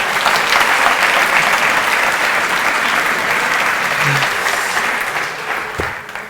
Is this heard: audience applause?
yes